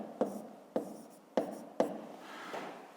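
A pen writes an answer by hand on paper, four sharp taps of strokes at a steady pace followed by a soft scratch, close and quiet.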